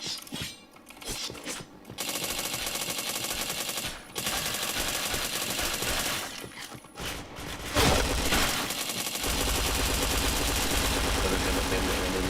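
Rapid automatic gunfire in a shooter video game match, dense bursts broken by short pauses and then a long sustained stream of shots, loud and close with little talk.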